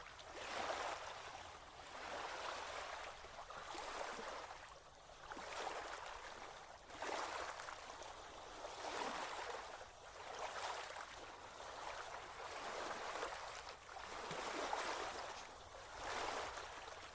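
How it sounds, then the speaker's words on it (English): Gentle waves lap in a slow, steady rhythm of soft washing swells, rising and falling every couple of seconds under a light breeze, with no voices. "Lapping waves broke the silence."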